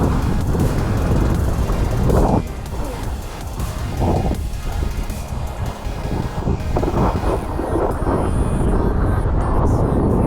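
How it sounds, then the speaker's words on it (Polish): Loud, steady wind at a kitesurfing beach in Rewa, Poland buffets the microphone in a continuous roar, with gusts rising and falling throughout. "odpaliło wiatr"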